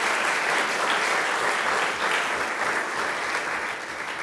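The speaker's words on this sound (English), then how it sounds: "Can we all please give a round of applause to Brian Williams and his crew for all the video" Audience at a women's hall of fame induction ceremony giving sustained, even applause, dense continuous clapping that tapers slightly toward the end.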